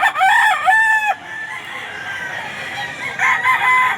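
A young rooster (stag) crows at a pet market, two loud nearby calls with a quieter stretch of background murmur between them.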